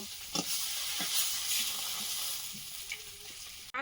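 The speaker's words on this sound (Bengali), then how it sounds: "মাছগুলো ভাজা হয়েছে তুলে নেব" Lailon tika fish, farmed, frying in hot oil in a home kitchen: a steady loud sizzle and hiss with small pops and stirring scrapes throughout, close by.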